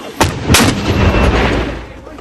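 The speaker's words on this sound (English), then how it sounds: "The mortar teams fire wherever they think the Taliban might be." Mortar rounds fired by an army mortar team in the Korengal Valley, Afghanistan: two sharp, loud booming launches close together, followed by a long rumbling echo rolling off the valley.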